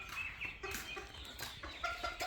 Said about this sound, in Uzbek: Hamma joy o'rdak.